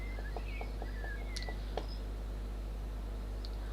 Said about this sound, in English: I just like the background noise that birds make.